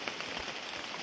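Rain patters steadily on forest leaves and a tarp overhead, a dense, even wash of drops close by with no voices.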